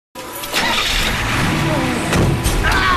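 A truck engine starts and runs with a rough, steady rumble close by, with a few sharper mechanical clanks and a voice speaking over it.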